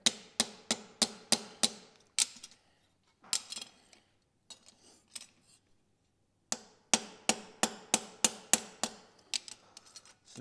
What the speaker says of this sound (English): I'm using the heel of my hammer just because I want to hit a line right there